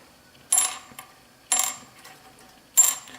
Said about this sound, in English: here's the what I believe to be the stock Epiphone plastic nut.